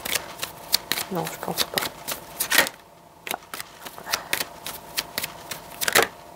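Tarot cards are shuffled and flipped with quick papery riffles and soft slaps, close up, while someone talks in French over them.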